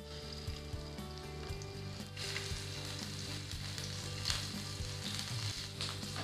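Marinated chicken coated in egg and flour frying in oil for Thai chilli chicken, a continuous low crackling sizzle at moderate level, with occasional soft stirring knocks and no talk.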